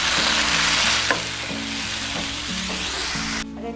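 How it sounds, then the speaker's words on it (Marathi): Onion and tomato fry in a pan with a steady, close sizzle that runs almost unbroken, with a few soft stirring knocks, then drops off sharply near the end. "कांदा टोमॅटो मस्त फ्राय झाले आहेत"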